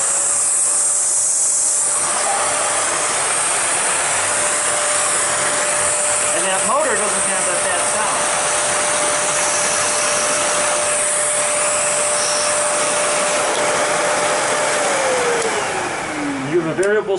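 A SEBO Felix bagged lift-away upright vacuum cleaner runs close by in a loud, continuous roar with a steady motor whine, and a person talks over the noise.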